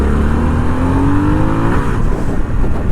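A 2021 Harley-Davidson Sportster S motorcycle engine revs up steadily, its pitch climbing under load before a brief shift, loud and close throughout with no talking.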